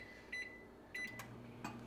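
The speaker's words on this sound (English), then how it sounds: "the bacon is in the microwave spinning and cooking" A microwave oven runs with a steady low hum while bacon cooks inside. Short electronic beeps sound over it, near and moderately quiet.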